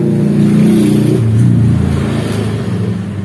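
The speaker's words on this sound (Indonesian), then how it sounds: "motor lewat" A motorbike rumbles past at close range, a steady low engine drone that swells slightly mid-pass and eases off, with no voices.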